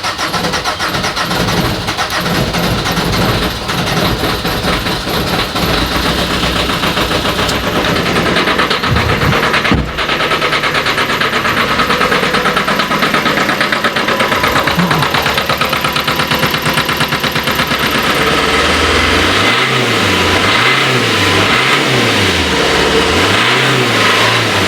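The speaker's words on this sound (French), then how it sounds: "on fait face à un échappement bouché et un moteur en train d'étouffer" Alfa Romeo MiTo with a clogged exhaust and choking engine, heard close and loud as it cranks, catches and runs roughly, with uneven revving and a rhythmic labored pulsing toward the end; no talking.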